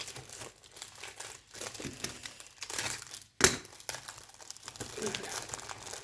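A paper envelope crinkling and crumpling in bursts, close by, with a sharp snap midway and a voice talking faintly in the background.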